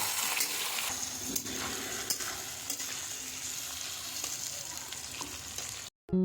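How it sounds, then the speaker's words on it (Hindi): Steady sizzling of onions frying in a pan for a goat meat curry, with occasional stirring scrapes, continuous and fairly close, ending in a brief cut. "इस प्याज को भी बढ़िया से भूनेंगे अभी"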